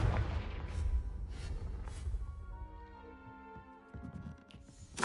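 Confringo blasting-spell explosion in Hogwarts Legacy, a loud booming burst followed by rumbling debris and a second heavy blast, with a tonal musical score swelling underneath as the blasts fade.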